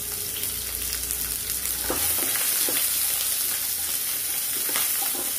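Chopped onion and green chillies sizzle steadily in hot oil on a home kitchen stove, a continuous close frying hiss with occasional stirring scrapes and pops, no voices.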